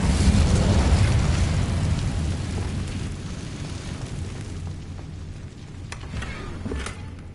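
An Incendio fire spell in Hogwarts Legacy on PS5 erupts as a loud, roaring burst of flame that slowly fades, followed by a few sharp crackles near the end.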